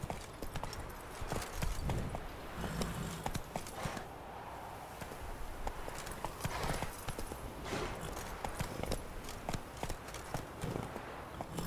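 Horse hooves clip-clop in a video game, a brisk, steady rhythm of hoof strikes riding under ambient game sound and scattered noise.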